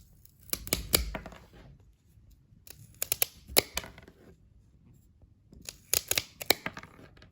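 King Tiger KT6 anvil hand pruning shears press slowly through a walnut branch, giving three separate bursts of crackling, snapping wood fibres with quiet gaps between them.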